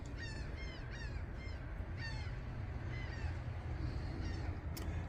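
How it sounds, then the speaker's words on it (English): Seagulls flying in off the ocean, giving repeated harsh calls in short bursts, moderately distant, over steady outdoor background noise with no talking. "The seagulls are coming in off the ocean."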